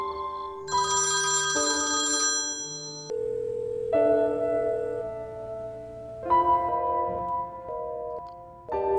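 Electronic telephone tones sound in stepped, sustained beeps and chirps of shifting pitch, like a line ringing or giving a busy signal, loud and close with no one talking.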